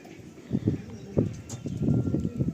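A Madrasi pigeon, a tournament-quality bird, gives soft, low, throaty coos in several short rhythmic bursts, heard up close.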